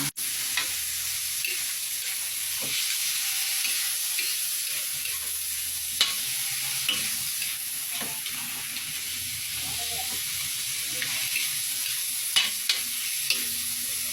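Pansit bihon rice noodles frying in a pan while being stirred, a continuous hissing sizzle with intermittent scraping and clacking of a utensil against the pan, near and steady throughout.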